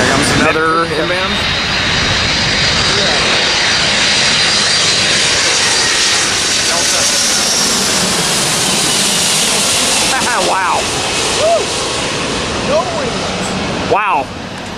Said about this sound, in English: Here comes another inbound.